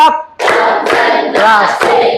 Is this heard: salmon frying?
no